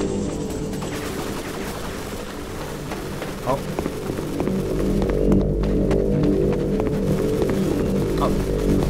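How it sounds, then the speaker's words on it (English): Automatic turret gunfire in a first-person shooter, a continuous rattling stream of rapid shots with busy game sounds and movement underneath, steady and fairly loud throughout, with speech-like activity mixed in. "Is that the Black Mesa turret?"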